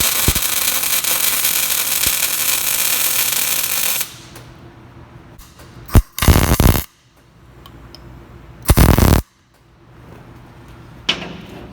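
Tack welding on the differential gears of a BMW E46, with sustained bursts of loud, crackling arc buzz separated by quieter gaps and a few sharp clicks, close up, with no talking.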